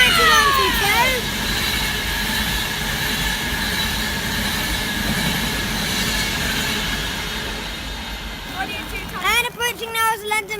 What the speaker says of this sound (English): And approaching now is a London Midland stopper.